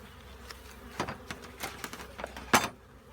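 Honey bees buzz near the hive while honey is being harvested, sounding as a soft close drone with several louder passes of single bees flying by the microphone, and no voices.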